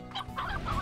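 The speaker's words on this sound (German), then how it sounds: "Ey, hier sind Hühner." Chickens in the video game Slime Rancher give a short burst of close, clear clucking.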